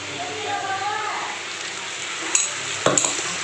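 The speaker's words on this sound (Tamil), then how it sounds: "நல்லா பச்சை வாடை போகிற மாதிரி நல்லா கிண்டிக்கலாம்" Ginger garlic paste frying in a pan for Chettinad chicken curry, a soft steady sizzle with a few sharp clicks of a spoon against the pan, close by.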